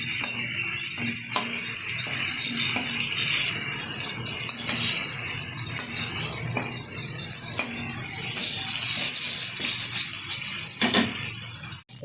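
Salted bitter gourd and pointed gourd pieces fry in a little oil in a pan and are turned over, with repeated light metallic clinks and scrapes over a steady close sizzle and no talking.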